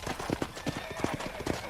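Rapid clip-clopping horse hooves beat steadily, close by, with a faint whinny mixed in, in the video game Red Dead Redemption.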